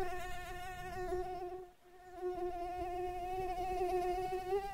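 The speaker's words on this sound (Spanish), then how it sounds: "No puedo dormir si hay un mosquito en el cuarto." A mosquito buzzes in a bedroom at night, a thin, steady, high whine that dips briefly as if passing away, then returns close and continuous, faint and alone without any talk.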